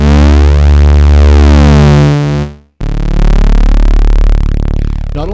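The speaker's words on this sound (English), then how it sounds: "the analog distortion circuit." Analog distortion circuit on a Behringer Neutron synthesizer drives a loud, buzzing harmonic-rich synth tone that cuts out briefly, then returns as a gritty distorted drone with shifting, sweeping overtones.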